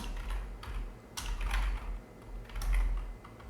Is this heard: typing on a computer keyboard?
yes